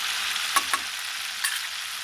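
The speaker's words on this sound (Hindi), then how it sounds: "अब हम इसमें डालते हैं अजवाइन और कलौंजी" Ajwain and kalonji seeds crackle in hot oil with a steady, hissing sizzle, broken by a few sharper pops and stirring scrapes, close up and without talk.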